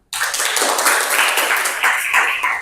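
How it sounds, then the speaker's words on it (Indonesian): A classroom of students applauds a presenting group, with dense, close clapping that starts abruptly and continues steadily for over two seconds. "Ya, tepuk tangan untuk kelompok 1."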